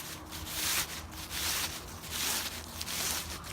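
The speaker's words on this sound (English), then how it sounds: "I just have to pull it and unfurl the tarp" Silk nylon hammock tarp slid out of its fabric sleeve, a series of close, rhythmic rubbing and swishing fabric strokes repeating several times.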